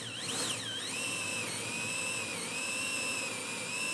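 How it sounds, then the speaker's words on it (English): A power drill boring a hole into plywood, a steady high whine with shifting pitch running continuously at close range, with no talking. "I'm drilling away from this edge so I don't get any tear out."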